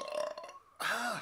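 A loud, close burp, long and rumbling, rising out of a brief stretch of quieter background sound.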